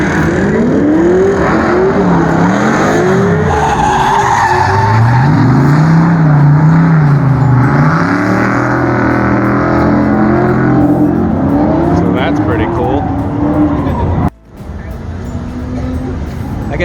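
Cars drifting on a wet track at a proving-grounds motorsport event: loud, continuous engine revving with rising and falling pitch sweeps as the cars slide, dipping briefly near the end.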